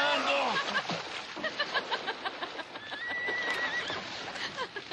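Horses hitched to a stuck carriage neigh and whinny loudly several times, with hoof clatter, while people talk and laugh over them.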